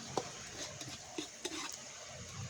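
White and red onions sautéing in a pan for native chicken tinola, with a soft steady sizzle and a few light scrapes and clicks of a utensil stirring, quiet and close.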